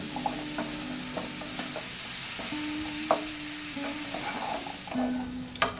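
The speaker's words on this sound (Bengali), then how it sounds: "এই সবজিগুলো কিন্তু খুব ভালোভাবে কষে নিতে হবে।" Pumpkin stems and mixed vegetables stir-fry in a pan, a steady moderate sizzle with repeated spatula scrapes and light taps against the metal, with no voices.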